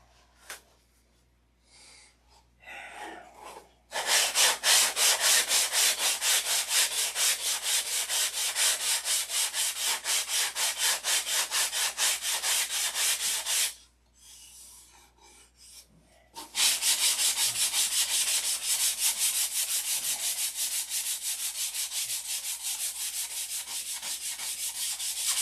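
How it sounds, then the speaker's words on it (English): Wood sanded by hand in long, rapid rasping strokes, close and loud, in two extended bursts separated by a brief pause. "You're going to be double sanded."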